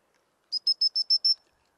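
A dog whistle calls a spaniel in during gundog retrieve training with cold game: six rapid, sharp, high pips in a quick even burst, loud and alone in otherwise near silence.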